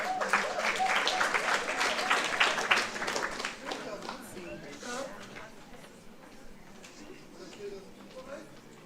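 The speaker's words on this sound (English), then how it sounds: "Let's give her a round of applause." An audience at an International Mother Language Day celebration gives a round of applause, loud clapping at first that gradually thins and fades, with some voices talking faintly underneath.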